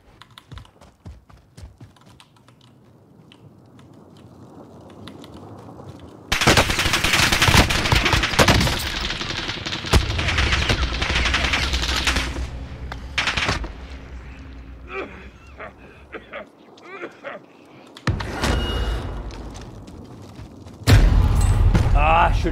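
Gunfire in Call of Duty Warzone from an M4A1 rifle: dense, loud bursts of automatic shots in several clusters over quiet stretches, with keyboard clatter and a player talking.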